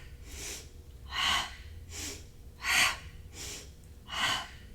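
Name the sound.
slow inhaling breath during yoga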